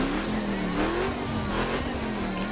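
Engine of a car in The Crew racing video game revving steadily, a continuous droning pitch that rises and falls slightly, close and moderately loud.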